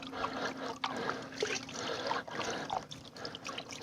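Water poured over a gold sluice to rinse it down, a steady trickling and splashing wash that runs for a few seconds at moderate volume with brief dips.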